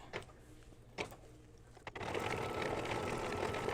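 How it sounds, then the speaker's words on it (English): An embroidery sewing machine quilting an in-the-hoop coin purse starts up after a few soft handling taps, then runs with a steady, fast, buzzing stitch rhythm at close range. "now it's doing the quilting"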